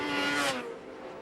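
Yamaha R6 race motorcycles rev hard at Brands Hatch, a high-pitched engine scream sweeping past briefly and then fading into the distance.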